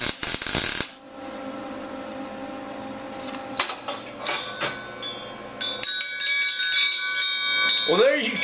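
A homemade bell, welded on Cheyenne Mountain, is struck several times and rings out with clear, sustained metallic tones that overlap and hum between hits, following a sharp opening clatter; a voice speaks now and then.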